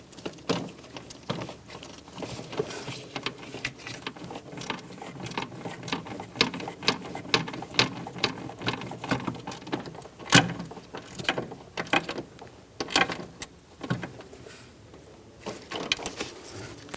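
Ratchet snugging down a clamp on an AC compressor line of a 1988-1999 GMC K1500 with a 5.7L V8, rapid uneven clicking in repeated strokes close up, steady and moderately loud throughout without talk.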